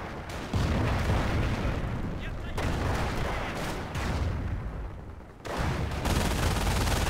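Bombs dropping and exploding in Company of Heroes, a dense roar of blasts and rumbling detonations that surges loudly in waves, broken by brief lulls around two and five seconds.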